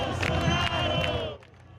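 Protest crowds in Brazil chanting and shouting, a loud rhythmic mass of voices with repeated accented beats, fading abruptly toward the end.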